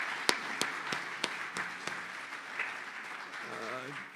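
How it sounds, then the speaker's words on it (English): A small audience at an anniversary event gives a faint, scattered round of applause for costumed reenactors, a few sharp claps standing out, then a voice begins speaking near the end. "Can we get another round of applause for our reenactors?"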